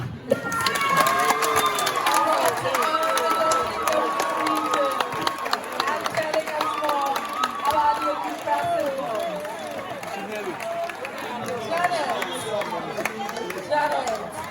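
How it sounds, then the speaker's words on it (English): An audience at the Ghana Most Beautiful 2023 pageant keeps clapping without pause, a dense patter of claps and cheers mixed with shouting and chatter, under a loud speaking voice. "The clapping is not stopping."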